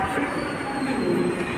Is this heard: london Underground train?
yes